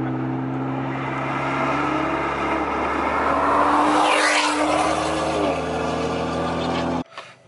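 A tuned Alfa Romeo Giulia with a loud aftermarket exhaust drives past, a steady droning engine note rising and roaring mid-pass before stopping abruptly.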